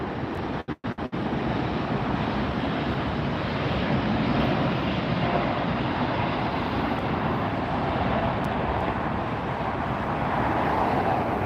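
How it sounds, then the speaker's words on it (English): A large, heavy LATAM airliner takes off at LAX, using the full runway. A loud, steady broadband jet roar fills the whole stretch with wind-like noise and no talking. "using all the runway to get up in the air"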